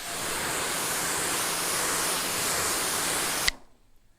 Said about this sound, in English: I'm gonna finish rinsing this off